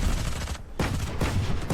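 Gunfire in a shooter video game as a player fires while falling, a quick burst of shots in under two seconds with a brief gap, close and steady in loudness.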